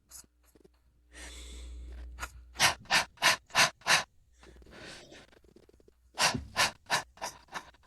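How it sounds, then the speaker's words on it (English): Quick, forceful belly breaths blown out in short bursts during a breathing exercise, two sets of about five sharp exhalations with softer breathing and inhales between them, close and fairly loud. "We'll just blow some air out, breathing kind of quickly with your belly"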